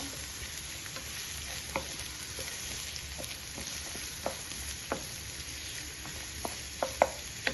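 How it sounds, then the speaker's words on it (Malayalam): A sliced medium onion sautés in a pan for chickpea curry, with a soft continuous sizzle under regular sharp taps and scrapes of a spoon stirring. "ഒരു മീഡിയം സൈസ് സബോള അത് അരിഞ്ഞിട്ട് കൊടുക്കാം ഒരു ഒരുമാതിരി അവിടെ കിടന്ന് വഴഞ്ഞു വരട്ടെ"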